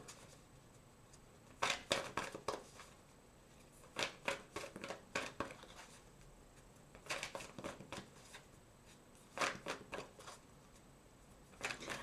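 Moonology oracle card deck being shuffled in three separate bursts of crisp riffling and flicking, close and fairly loud, with quiet pauses in between and no talking.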